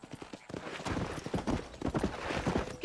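Horse hooves in the video game Red Dead Redemption clop in a quick, uneven rhythm after a brief pause, fairly close and loud, with little else over them.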